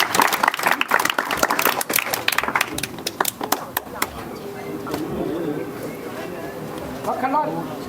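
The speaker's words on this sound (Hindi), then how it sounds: "जोरदार तालियां।" A crowd at an outdoor village political rally bursts into loud, sharp, close clapping that thins after a few seconds, and a voice over a loudspeaker carries on during and after it.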